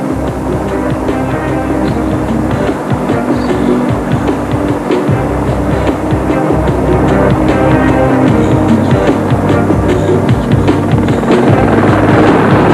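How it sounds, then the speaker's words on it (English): A loud, continuous helicopter roar with rapid rotor chop, flying low below treetops over the Dakar 2004 rally, fills the whole stretch, close and steady without letting up. "The helicopters really are getting down below the treetops"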